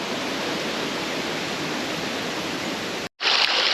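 Steady, loud roar of a waterfall heard from near the top of the falls on a Minca hike, a dense unbroken wash that cuts out briefly near the end before returning even brighter.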